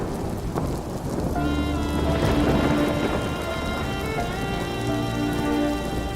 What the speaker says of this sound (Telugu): ఈ వర్షం ఏమో తగ్గిలా లేదు.